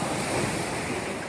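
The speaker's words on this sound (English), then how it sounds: "Waves not bad." Ocean surf washes steadily at Scorpion Anchorage on Santa Cruz Island in the Channel Islands, a constant broad rush of waves mixed with wind buffeting the microphone.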